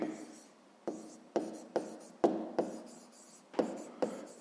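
Pen writing by hand on paper during a 5th-grade maths exercise, a series of about eight close, crisp scratching strokes at an irregular pace, with no talking.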